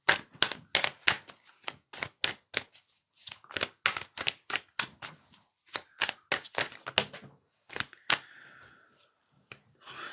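Tarot cards being shuffled and pulled, a rapid series of crisp riffling snaps and slaps, close and fairly loud, with short pauses between bursts and no talking.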